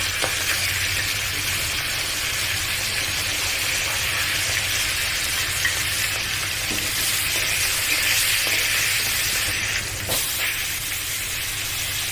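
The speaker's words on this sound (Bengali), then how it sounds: "মেখে নিয়ে আমি সরিষার তেলে একে একে কিন্তু ভেজে নেব বেগুনটা প্রথমেই ভেজে নেব" Eggplant slices frying in hot mustard oil give a steady, loud sizzle that runs unbroken throughout, with a few faint stirring clicks and no voices.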